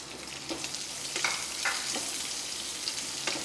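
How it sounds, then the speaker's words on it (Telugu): Two lengthwise-slit green chillies and a thinly sliced large onion fry in oil with popped tempering seeds. The sizzle is soft and steady, broken by occasional faint clicks of stirring. "ఇవన్నీ వేసుకొని మంచిగా వేయించుకోవాలి."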